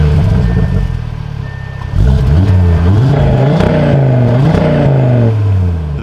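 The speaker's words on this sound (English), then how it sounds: "let's hear the RS3 midpipes along with the AWE exhaust" An Audi RS3 engine with AWE exhaust and midpipes revs loudly up close, building from a steady idle into a series of rising and falling blips, with no talk over it.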